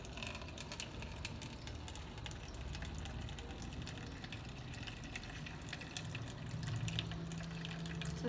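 Water from a neti pot pours steadily through the nasal passages, a continuous soft gurgling trickle held close throughout, swelling slightly toward the end.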